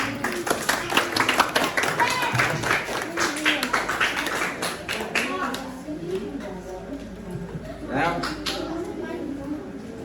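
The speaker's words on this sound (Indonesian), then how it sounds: "Dan tepuk tangan." A classroom of students claps together, giving a burst of dense, close applause that thins out over several seconds, with voices chattering over and after it.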